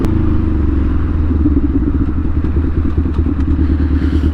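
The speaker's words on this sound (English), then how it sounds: "My bike's too loud." A loud, close Kawasaki Ninja 400 motorcycle engine rumbling with a rapid, throbbing pulse and some rattling clatter throughout.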